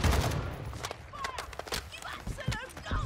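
Sniper gunfire in the video game Warzone 2, a few sharp shots heard amid game noise with a person talking over it.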